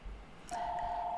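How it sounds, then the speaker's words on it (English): A telephone gives one short beep and then a steady electronic tone that holds to the end, moderately loud and with no voices. "sorry for the phone."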